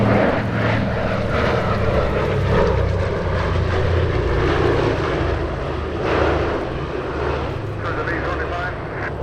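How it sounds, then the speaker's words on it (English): A B-24 Liberator heavy bomber flies at a military and warbird airshow, its piston propeller engines giving a loud, continuous, rumbling drone that swells and eases slightly throughout. "Diamond Lille is the only true B-24 actively flying at the moment"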